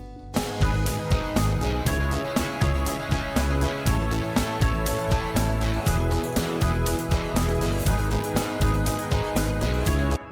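A full music mix of acoustic drums, synth bass, keys and an arpeggio, playing loud and steady with a driving regular beat throughout.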